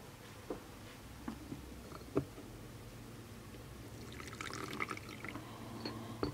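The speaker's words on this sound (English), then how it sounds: "So I'm going to pour us a cup of tea." Tea pouring into a cup, a quiet liquid trickle that builds toward the end after a few faint taps and clinks, heard close with no talking.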